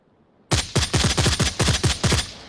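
Gunfire from the VR shooter game Onward comes as a rapid automatic burst of about a dozen sharp, loud shots in an even rhythm. Nobody talks over it.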